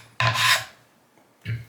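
A knife blade rasps across a wet Shapton whetstone during midrange honing, two firm strokes, a long scraping pass then a shorter one after a quiet gap, close and clear with no talk.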